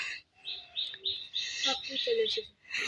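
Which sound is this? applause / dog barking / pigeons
pigeons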